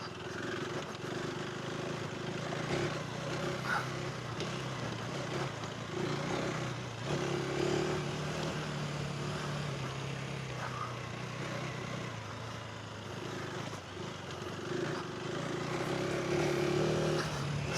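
A 2026 KTM 390 Adventure R rides a dirt trail, its engine note droning steadily and fairly close with small rises and dips as the clutch is slipped, under rushing wind noise.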